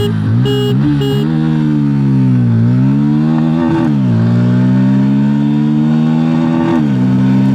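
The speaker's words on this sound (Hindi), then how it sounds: "अब एक्सेलरेशन टेस्ट स्टार्ट करते हैं। Of all new Bajaj Pulsar P150 first gear में डाल दिया है।" A Bajaj Pulsar P150 motorcycle accelerates hard from first gear, its loud, close engine note climbing and dipping through several revving sweeps without pause.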